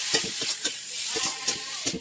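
Potatoes frying with turmeric, salt and spice mix stirred in a pan, giving a steady hiss with repeated scraping stirs in an uneven rhythm, loud and close, without speech.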